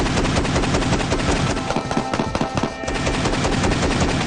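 An AA-12 shotgun fires fully automatic in a long, loud, rapid string of blasts close by. The shots run together into a continuous roar with a brief dip midway and no voices.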